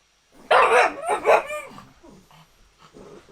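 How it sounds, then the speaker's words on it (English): A pug barks sharply two or three times close by, followed by softer yips and whimpering noises. "What are you barking at?"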